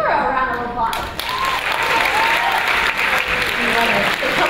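Audience applause rings out for a Miss World Canada 2013 pageant contestant, a dense, loud, steady wash of clapping that swells after a brief quieter opening and holds strong throughout, with a voice faintly audible underneath.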